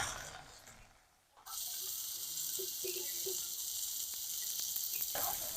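Eggplant and small fish curry with chopped gandharaj lemon leaves sizzling in a pan, a steady broadband hiss after a brief quieter start, with faint clinks of stirring.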